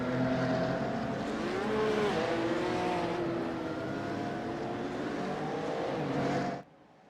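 Porsche Cup race cars in the iRacing simulator on a parade lap at Road America, engines droning together at steady moderate revs with shifting pitch, continuous and close, cutting off abruptly at the end.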